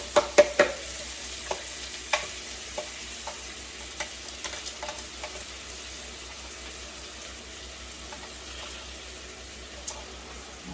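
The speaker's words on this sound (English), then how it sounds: "the butter's melted, so we're gonna go ahead and add in our chopped onion" Chopped onion goes into melted butter in a pan, opening with a few sharp clatters and stirs, then settling into a soft, steady sizzle close by without talk.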